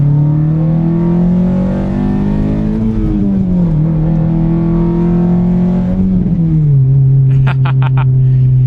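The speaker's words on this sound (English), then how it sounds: "I just merge onto the highway. Boom, I get up to speed real quick." An old car's engine drones loudly and steadily from inside the cabin, its pitch shifting as it accelerates onto a highway while racing to pass a truck, with brief clicking near the end.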